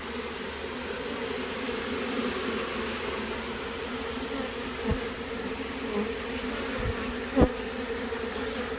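A honeybee swarm hums in a steady, continuous drone around its queen, with a few faint bumps and knocks nearby.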